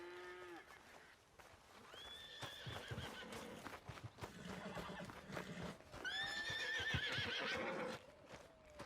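A horse in the Red Dead Redemption 2 video game whinnies and neighs several times in loud, shaky bursts at close range, with faint hoof clip-clops and light background sounds between calls.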